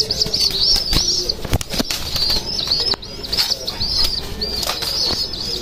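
Pet pigeons in a balcony loft flap their wings in several quick bursts, close by, with soft cooing and faint chirps running underneath.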